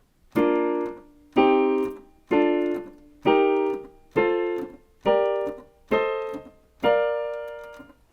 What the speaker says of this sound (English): when we play these 7 chords in order, major 1, minor 2, minor 3